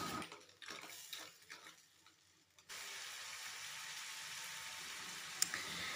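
Crabs stirred and mixed in a cooking pan for a spicy Bengali crab curry, with metal clinks and scraping over a steady hiss of steam and sizzle that rises to a constant level midway.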